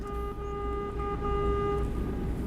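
A truck horn in American Truck Simulator blares as a steady, sustained tone inside a tunnel, loud over the low rumble of the engine.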